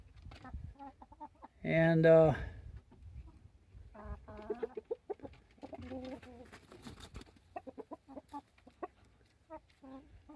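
Backyard hens cluck and murmur in soft, scattered calls close by, with one louder squawk early on and someone speaking quietly over them.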